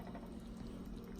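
Liquid draining off cooked ground beef through a slotted spoon for lasagne, a steady low trickling and pouring wash that stays faint and even throughout, with no talking.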